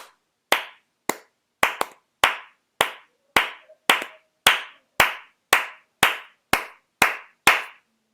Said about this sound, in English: there is applause within the pause